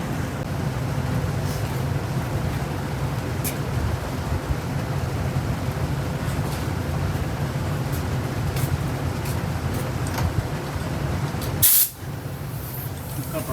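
Air ride suspension on a 1963 Pontiac Grand Prix inflates from a makeshift compressor, a loud continuous close hiss holding steady throughout with a sharp burst near the end.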